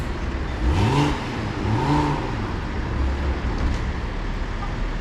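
Car accelerating and passing quickly through a city bike lane near a busy downtown intersection, two rising engine sweeps close by over a steady roar of traffic.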